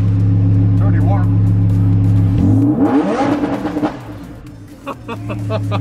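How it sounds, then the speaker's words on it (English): A warm Lamborghini fitted with an aftermarket exhaust idles with a loud, steady drone, then its engine is revved hard in one rising surge before dropping back. People talk close by throughout. "Should I give it a little rev?"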